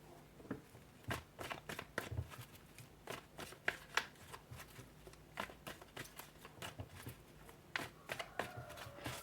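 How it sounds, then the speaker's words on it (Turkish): Tarot cards are shuffled and drawn by hand, giving quiet, close, irregular riffling flicks and soft slaps in quick bursts, with no talking over them. "Bir kart daha çekelim bakalım."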